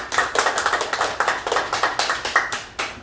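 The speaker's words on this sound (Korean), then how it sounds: "다시 한번 큰 박수 부탁드립니다" A small gathering applauds a classical singer with a handful of distinct, fairly close claps in an uneven, rhythmic patter, each clap standing out separately with short gaps between.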